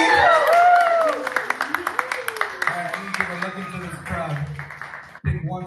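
Crowd clapping and cheering at a community meetup in Vancouver, dense applause under a loud voice calling out over the group, fading toward the end.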